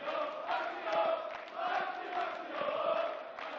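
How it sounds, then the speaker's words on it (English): Darts crowd at the 2018 German Darts Open responding to a 100 score, a steady wash of cheering and shouting voices with swelling roars, continuous and moderately loud throughout. "Getting some of the crowd on their feet"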